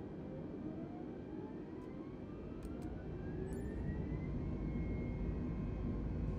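Airbus A320 Neo jet engines spooling to takeoff/go-around thrust in Microsoft Flight Simulator 2020, a steady loud broadband roar with a slowly rising whine that builds toward the end, with no talking.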